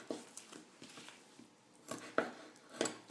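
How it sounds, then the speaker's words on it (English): A knife cutting along the skin and bone of a duck being butchered, faint irregular taps and scrapes against a board, a few sharper knocks near the end. "then you cut along the skin and the bone"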